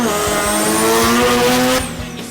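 Rotary-engined Datsun revving hard under heavy acceleration, a loud, sustained high-pitched engine wail with a hint of tyre squeal that eases off near the end.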